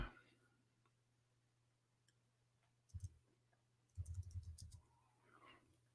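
A few sparse keyboard key clicks in a quiet room: one short double tap, then a quick cluster of several presses about a second later, faint and close.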